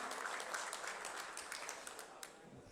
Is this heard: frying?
no